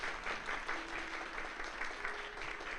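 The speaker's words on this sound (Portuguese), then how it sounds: "Vamos aplaudir ao Senhor por esses pastores amados?" Church congregation clapping after a call to applaud its beloved pastors, a steady mid-level patter of many hands that fills the short stretch without pause.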